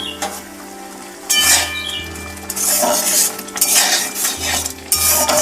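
Metal lid and utensils clink and scrape against a pan of Bengali-style tomato chutney, with several loud clattering bursts and a low steady hum underneath; no talking.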